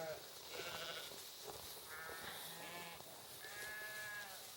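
Icelandic and Tunisian North African cross sheep bleat repeatedly on a northern pasture, several wavering calls overlapping one another against steady outdoor background noise.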